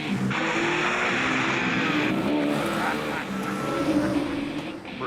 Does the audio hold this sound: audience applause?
no